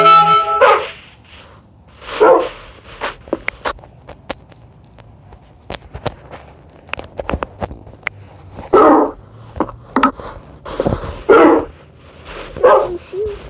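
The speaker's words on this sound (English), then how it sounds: "I caught these two dogs." Dogs in the video game Minecraft bark in short separate bursts, several sharp barks spaced irregularly with quieter clicks and footstep-like taps between them, close and fairly loud.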